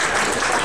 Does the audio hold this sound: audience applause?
yes